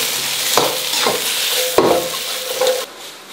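Green and red peppers stir-fried in a hot wok with a little oil and salt, a steady close sizzle broken by several scraping stirs of the spatula against the pan.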